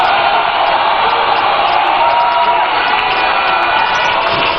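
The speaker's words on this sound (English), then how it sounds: "Round of applause for him." A large crowd at an NDC political rally and manifesto launch in Ghana cheers and claps continuously, a loud, dense roar of voices and applause with no break.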